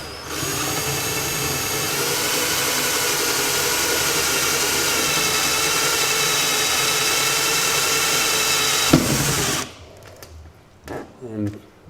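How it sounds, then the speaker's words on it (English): A power drill with a hole saw cutting a shower outlet hole through a splashback panel whines continuously at high speed for about nine seconds, then cuts off abruptly, leaving brief clatter and a short voice. "Now we're going to drill a hole with a hole saw to allow for the shower outlet."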